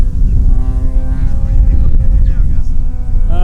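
An AJ Laser 60-inch 230Z aerobatic RC plane drones overhead, its engine note steady then rising in pitch near the end, loud and continuous.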